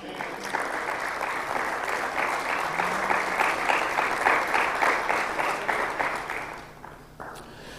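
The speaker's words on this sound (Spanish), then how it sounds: "¿Cuántos pueden darle un fuerte aplauso al Señor," A church congregation at a pastoral breakfast applauds, broad sustained clapping from many people for several seconds before tapering off near the end, fairly loud and roomy.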